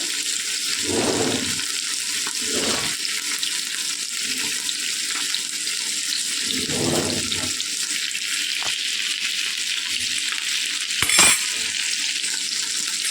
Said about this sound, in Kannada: ಆ ಥರ ನೀಟಾಗಿ ಫ್ರೈ ಮಾಡ್ಕೋಬೇಕು ಎಣ್ಣೆಯಲ್ಲಿ.